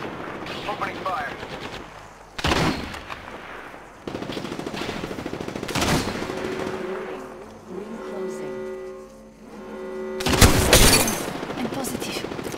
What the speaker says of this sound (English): I spotted an enemy. Shot at. Opening fire.